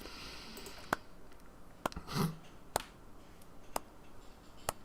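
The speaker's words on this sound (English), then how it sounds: "It's the most pathetic applause in the world, Harry." Sparse, pitiful applause in Disco Elysium: a handful of isolated sharp claps spaced about a second apart over a quiet background, with one brief muffled rustle between them.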